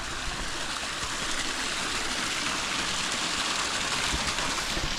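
Spring water flows steadily nearby, a dense, continuous rushing and splashing with no breaks, near a hot spring in Ouray, Colorado.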